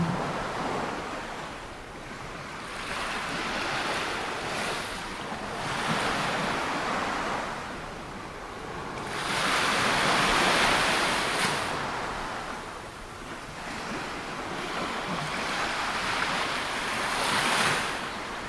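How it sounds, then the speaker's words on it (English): Ocean waves at Coney Island, New York roll in and wash up the shore in slow surges, a broad hiss swelling and fading, with some wind rumble and no voices. "The wave of Coney Island, New York has arrived."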